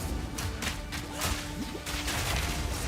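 Gas grenade explosions in the game Path of Exile 2 come as dense, crashing blasts and whooshing impacts that repeat over a loud, continuous wash of game effects.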